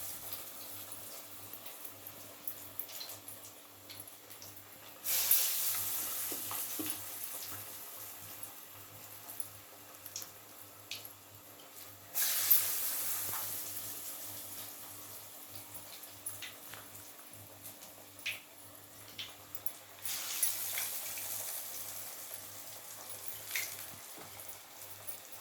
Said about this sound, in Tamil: இந்த வடை நல்லா பொரிஞ்சு வரட்டும்.